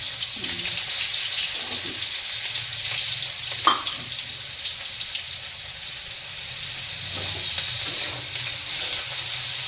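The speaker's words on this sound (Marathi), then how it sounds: "गरम मस्तपैकी आता कांदा भाजायला लागलेला आहे." Chopped onion frying in hot oil on a griddle for egg bhurji, a steady hissing sizzle with a few soft scrapes and clicks, no talking.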